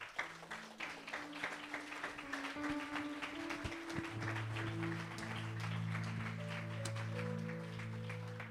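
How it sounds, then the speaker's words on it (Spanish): A church congregation applauds, steady clapping running throughout under sustained organ or keyboard chords, with scattered voices mixed in. "Den un aplauso al Señor."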